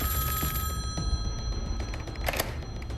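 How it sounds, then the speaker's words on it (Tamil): An emergency red telephone rings in a dramatized retelling of Israel's Operation Opera strike on Iraq's nuclear reactor, a shrill, fairly loud electric bell trilling steadily over background noise, no voices. "அவருடைய எமர்ஜென்சி ரெட் டெலிஃபோன் அடிக்குது"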